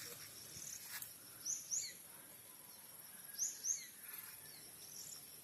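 Faint bird calls sound over rural farmland, with two short pairs of high chirps from a distance against a soft bed of insect hum.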